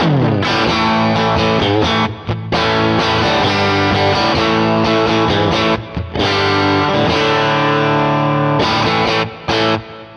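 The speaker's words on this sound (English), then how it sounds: "With a little overdrive here, just throw it on the bridge." Loud overdriven electric guitar on the bridge pickup through a '65 Princeton Reverb amp profile, gritty, bright tone, chords and riffs played continuously with brief pauses, no talking.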